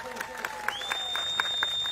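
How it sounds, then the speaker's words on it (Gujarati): Crowd clapping at an outdoor farmers' rally, a loose patter of hands spread across the moment, with a thin steady whistling tone running underneath. "આપણે બધા માટે એકવાર જોરદાર તાળીઓ પાડી લઈશું"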